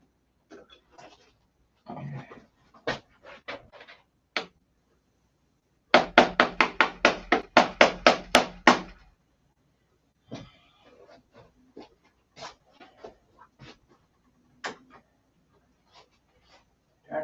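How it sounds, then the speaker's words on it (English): A hammer beats on metal to open up a hole on a Viper, with scattered single knocks, then a fast run of about a dozen loud, close strikes, then more spaced taps, with no talking. "beat on it with a hammer, I guess."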